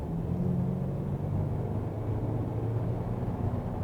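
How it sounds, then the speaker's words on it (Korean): A Lincoln Nautilus SUV weighing just under 2.1 tonnes, driving at low speed, heard from inside as a steady, low engine and road rumble that stays even throughout, with no talk. "저속 주행 중인데"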